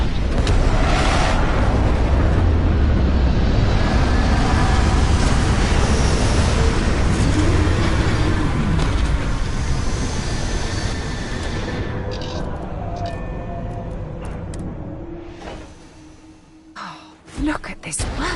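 A landing aircraft sets down, a loud sustained broadband engine roar dominating most of the span before fading and breaking off near the end, with scattered short knocks afterward.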